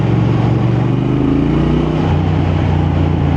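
Triumph Thruxton 1200 motorcycle in road mode leans into a corner, its engine a steady low rumble with rising and falling harmonic tones, loud and close, likely heard from the rider's position, with no voices over it.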